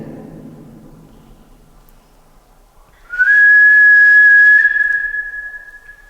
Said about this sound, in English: We kept on hearing whistles throughout the entirety of the cave.